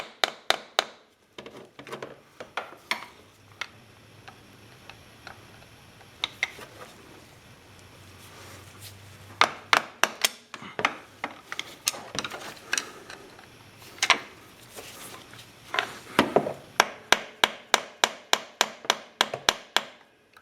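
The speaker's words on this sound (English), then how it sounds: "Give yourself a little bit of leverage and then tap slightly as you tighten to ensure that the screws won't come loose later on." Screws on an ATV being tapped with a tool while they are tightened: sharp, close knocks, at first scattered with quiet pauses, then a fast, steady run of evenly spaced taps toward the end, with no talking.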